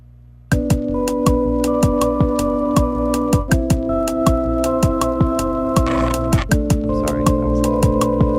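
A beat played on an OP-XY synthesizer: a steady, loud pattern of sharp percussive hits over sustained tonal synth notes that shift pitch a couple of times, with no voices.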